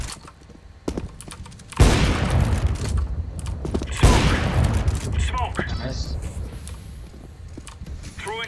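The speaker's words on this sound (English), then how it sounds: "Throwing fire! Flashbang." Grenades and gunfire in the video game Counter-Strike: Global Offensive: two heavy blasts a couple of seconds apart, each followed by a long rumbling tail, with scattered gunshots and clicks and faint voices in the background.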